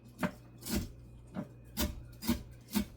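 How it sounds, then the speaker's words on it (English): A knife chops bacon strips on a board in six separate strokes, each a short scraping thud spaced roughly half a second apart, fairly close and moderately loud, with no voices. "we'll chop up some bacon"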